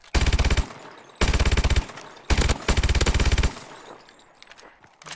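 Automatic KF5 gunfire in Call of Duty: Advanced Warfare, three loud rapid bursts a second or so long with short gaps between, close and dry, fading into quieter shots and game noise at the end.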